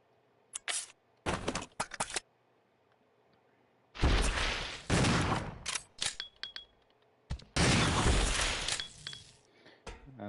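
Gunfire in the Resident Evil 0 video game: several sharp, loud bursts in irregular clusters, separated by brief quiet gaps, with no talk over them.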